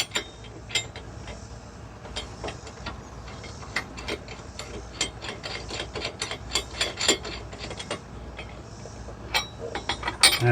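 Hand tools tighten lug nuts on a 4x4 wheel hub, with a ratchet wrench clicking in quick irregular bursts and metallic clinks, close and crisp over faint background noise.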